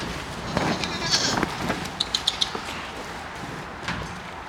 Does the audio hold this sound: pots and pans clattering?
no